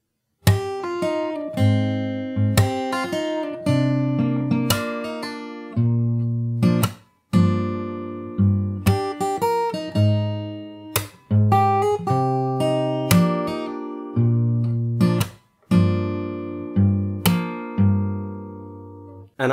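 A song's chorus is played slowly on an acoustic guitar in fingerstyle, with a long run of plucked notes, ringing chords and regular sharp slap accents, close and unaccompanied without talking.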